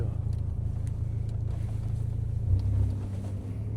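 A car engine rumbles low and steady while driving, swelling briefly partway through as if the throttle opens, then settling back to a constant drone.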